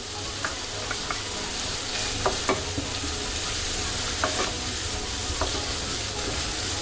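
Ginger and green chillies fry in a pan over a low flame while making salt rice-flour balls, giving a steady close sizzle with scattered light scraping and stirring clicks throughout.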